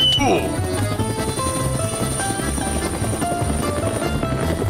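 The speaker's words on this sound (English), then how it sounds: "I'm landing the chopper." A helicopter in Minecraft drones with a steady whirring rotor throughout, close and sustained, while a person talks over it at the start.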